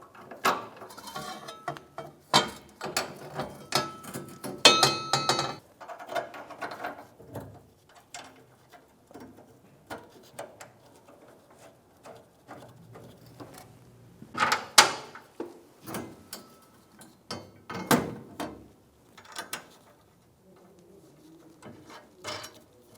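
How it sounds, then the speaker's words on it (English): Ratcheting and clinking as a nut with a washer is run down onto a gas tank strap bolt on a 1992-1996 Ford F-150, bursts of quick clicks separated by short pauses, close and fairly quiet. "going to put a washer on these and put the nut on"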